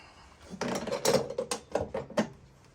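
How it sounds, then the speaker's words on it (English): Channel-lock wrench working on old water heater pipe fittings, a quick series of metallic clicks and grinding scrapes in irregular rhythm, close and fairly loud. "So now I'm just using a wrench"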